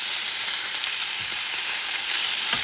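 Liver frying in a pan, a loud, dense, continuous sizzle and crackle close up, with faint stirring noises underneath.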